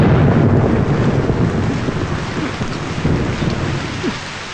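Heavy rain pours steadily with low thunder rumbling underneath and gusty wind buffeting the microphone, a dense, loud wash of storm noise throughout.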